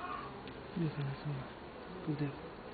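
Worker honey bees buzz around an open hive, a dense steady drone close by with tones that swell and fade as individual bees pass near.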